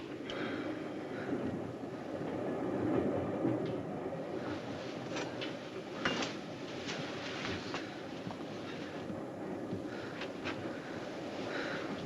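A train runs steadily on rails, a continuous rolling rumble with faint clicks and rattles throughout, moderately distant and fairly quiet, with no speech over it.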